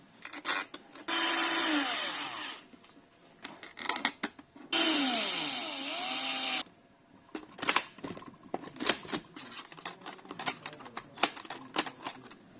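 A power tool drives screws into a TTLock OS326FB fingerprint smart lock, two sustained whirring bursts of a few seconds each, followed by a stretch of scattered clicks and small handling knocks.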